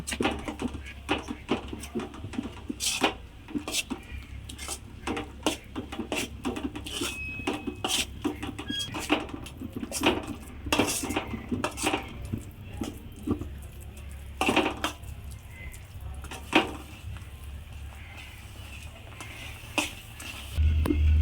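A utensil scrapes and clinks repeatedly against a pan while a thick motichoor laddu mixture is stirred, close by, with a steady low hum underneath.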